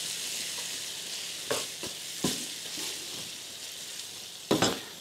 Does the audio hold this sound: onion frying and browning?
yes